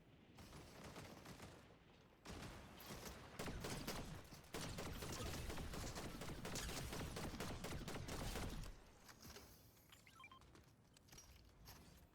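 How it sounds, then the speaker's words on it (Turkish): Gunfire in the video game Fortnite, Zero Build mode: rapid bursts of automatic shots fire in dense clusters, loudest in the middle stretch, then thinning to scattered quieter sounds at the end. "Silah sesi var önümde."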